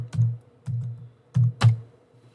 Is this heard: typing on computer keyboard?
yes